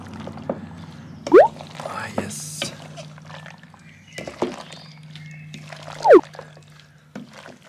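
Carbonara pasta stirred in a pan on an outdoor grill, with wet, sloppy squelches and scraping swirls coming in uneven bursts, close up, while someone talks.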